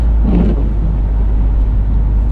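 The exhaust of a VW Golf R Mk7.5, 300 hp, all-wheel drive, drones steadily from inside the moving car, a low constant rumble with a brief rise in tone early on.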